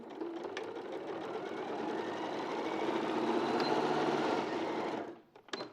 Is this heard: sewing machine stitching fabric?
yes